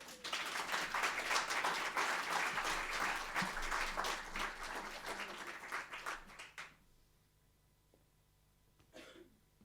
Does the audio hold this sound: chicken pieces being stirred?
no